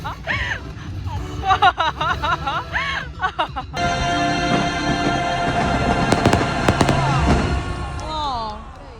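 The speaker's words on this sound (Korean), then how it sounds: "이게 불꽃놀이지." Fireworks burst over Shanghai Disneyland, a loud continuous crackle with dense pops and booms through most of the stretch, while crowd voices and exclamations rise early on and persist beneath the display.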